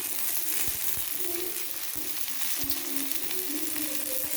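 Fish frying in a pan with coriander leaves added: a steady, close sizzle with a few soft stirring scrapes and light taps, moderately quiet, with no speech.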